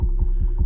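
Deep, booming electronic bass thumps roughly every fifth of a second over a steady low hum, heavy and close.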